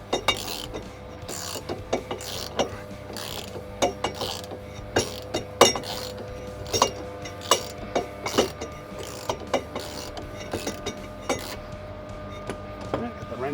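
A ratchet wrench turns an inner tie rod removal tool, giving a steady run of sharp, close mechanical clicks in irregular bursts over a faint background hum.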